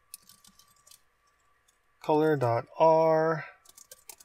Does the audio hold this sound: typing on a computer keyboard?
yes